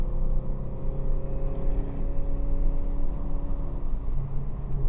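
A Chevrolet Camaro ZL1 1LE drives at Buttonwillow Raceway Park, its engine a steady, heavy drone with a low rumble. The engine note holds loud and continuous throughout, with no voices.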